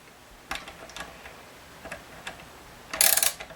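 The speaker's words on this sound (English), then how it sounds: "I also have this cool little circular ratchet" A small circular ratchet tightens the nuts of Hipshot tuners on an Ibanez RG1570 guitar, giving a few sparse clicks and then a quick burst of rapid ratcheting near the end, close and otherwise quiet.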